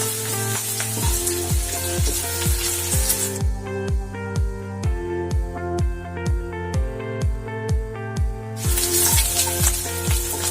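Onions sautéing in a pan while cooking Kerala egg roast, a steady sizzle and frying crackle punctuated by regular rhythmic stirring or scraping thumps, fairly loud and close, with no talking.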